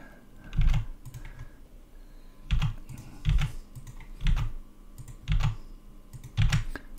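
Bursts of typing on a computer keyboard, clusters of close key clicks coming in short groups with brief pauses between them.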